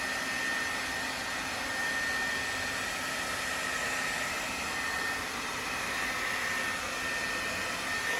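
A handheld blow dryer runs steadily and loudly the whole time on a man's hair while it is styled for ballroom dancing, a continuous broadband whoosh with a faint motor whine and no talking.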